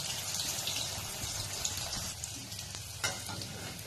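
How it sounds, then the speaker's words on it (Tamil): Beef pieces frying in hot oil for beef sambal, a steady close sizzle with faint stirring scrapes throughout and no talking. "கொஞ்சம் கொஞ்சமாக போட்டு பொரித்து எடுத்துக்கிறலாம்"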